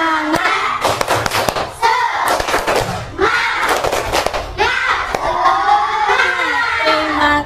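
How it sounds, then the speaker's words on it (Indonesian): A class of children clapping a rhythmic spirit clap (tepuk semangat) together, loud bursts of patterned claps in quick groups with short gaps, close by, mixed with some voices. "ayo kita tepuk semangat dulu agar lebih semangat semuanya"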